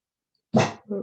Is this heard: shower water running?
no